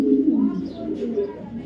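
Afsan grizzle pigeons give a soft, low continuous cooing, close and steady throughout, with faint higher chirps.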